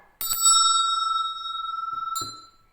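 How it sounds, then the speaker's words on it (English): A single bright bell is struck with a clear ring that sustains with a slight warble, then a second strike closes it as the tone fades. "The bell."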